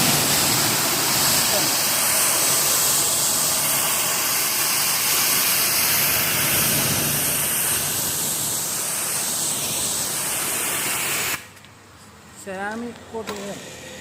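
A hose sprays water onto a ceramic-coated car, giving a loud, steady hiss that runs for about eleven seconds and then stops abruptly, followed by a brief stretch of speech.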